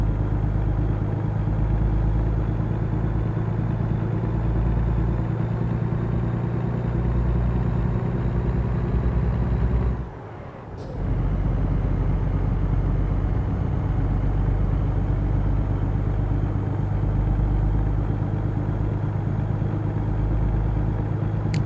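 A heavy truck engine in the American Truck Simulator game labours under a grain double trailer, a steady loud low drone that runs throughout with a brief dip near the middle.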